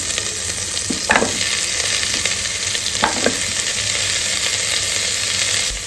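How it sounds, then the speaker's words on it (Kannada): Fried onions sizzle steadily in a pan while grated coconut goes in, with a few scraping stirs of a spoon standing out against the constant frying hiss, no voices. "ಇವಾಗ ಆನಿಯನ್ ಫ್ರೈ ಆಗಿದೆ ಕಾಯಿ ಹಾಕೊಂತ ಇದ್ದೀನಿ"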